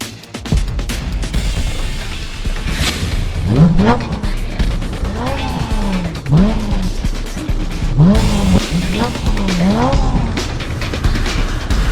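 A racing car accelerating hard, its engine revving up in repeated rising sweeps with gear changes, loud and close, with tire squeal and voices talking over the roar.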